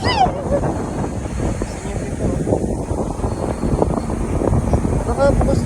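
Steady wind roars and buffets over a moving boat, a constant rushing noise with voices talking faintly underneath.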